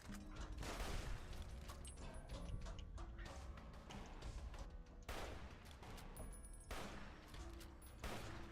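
Turret gunfire in Fallout: New Vegas: dense, continuous bursts of rapid shots with sharp louder cracks recurring every few seconds, mixed with mechanical clatter and no voices.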